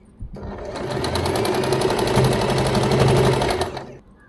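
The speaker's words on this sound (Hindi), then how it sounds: "यहाँ से पूरे गले पे सिलाई लगा देनी है" A sewing machine runs continuously for about three seconds, stitching a strip along a blouse neckline. The whirring motor and rapid needle clatter are close and loud, and the machine starts and stops cleanly.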